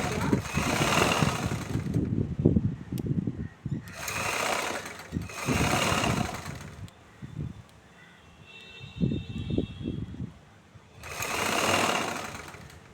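A sewing machine stitches a sleeve onto a chudithar in three separate runs of steady, close whirring, with short pauses between them and a faint voice in the gaps.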